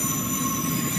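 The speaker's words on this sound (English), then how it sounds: "there's a slightly different thing with the motors on this train that sound quite different from the likes of the older Desiros" Electric traction motors of a Class 700 Thameslink train in Train Simulator 2022, a steady droning hum with a high whine running continuously, moderately loud and without talk.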